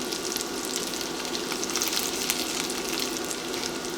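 Gnocchi fries in butter in a pan with a steady, close crackling sizzle that holds at an even level throughout, no voices over it.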